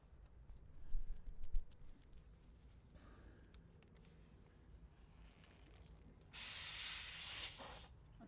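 A portable tyre inflator switches on and pumps air into a tyre valve, a loud steady hiss starting abruptly near the end after quiet handling clicks and taps.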